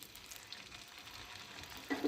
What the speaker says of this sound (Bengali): আমার তেলটা গরম হয়ে গেছে এবারে আমি হচ্ছে পিঠাটা ছেড়ে দেবো